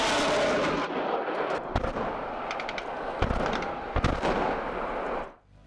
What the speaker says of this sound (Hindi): आग का एक बड़ा सा गोला उत्पन्न होता है और धरती को हिलाकर रख देने वाली शॉक वेव के साथ एक वैक्यूम पैदा होता है